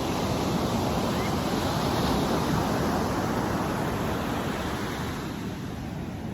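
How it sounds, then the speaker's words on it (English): Ocean surf rolls onto a beach in a steady, loud wash of breaking waves, with wind rumbling across the microphone. "just listen to the waves"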